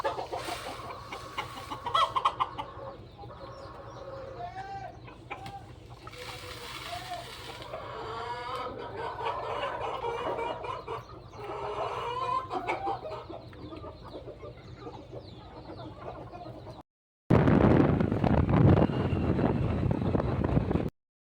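Hens cluck and murmur close by as they are fed grain and water, over steady outdoor noise and wind buffeting, then a loud rushing burst after a brief cut.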